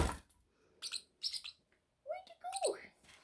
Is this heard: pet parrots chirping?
yes